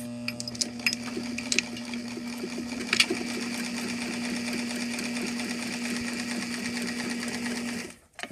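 A sewing machine runs steadily for about eight seconds, stitching bias tape onto the raw edge of a dress strap, a close, even mechanical hum that cuts off at the end.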